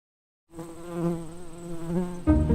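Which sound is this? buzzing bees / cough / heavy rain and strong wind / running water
buzzing bees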